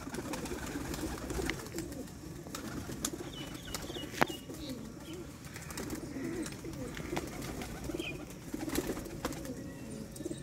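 Pigeons on a house rooftop coo steadily in overlapping low murmurs, with occasional wing flaps and faint chirps scattered through the flock's continuous sound.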